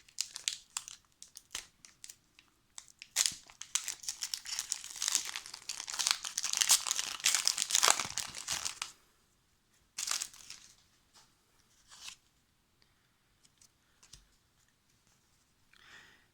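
A Pokémon booster pack wrapper crinkled and torn open, dense crackling plastic for several seconds, then scattered rustles and a few brief crinkles as it settles, close and clear with no talk.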